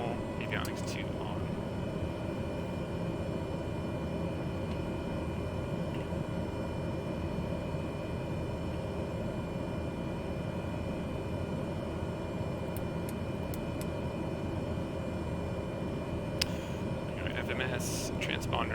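Steady, even drone of an aircraft engine held at high idle runs unbroken throughout, with faint cockpit voices and small clicks over it.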